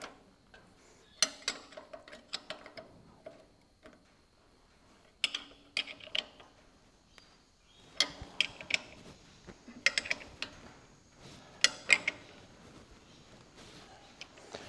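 Bolts being tightened on an Australian positioner kit fitted to a Ferguson tractor: scattered metallic clicks and ratcheting taps in short bursts, close and moderately loud, with quiet gaps between.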